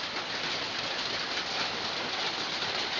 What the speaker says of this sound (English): it is raining at the same time the sun is shining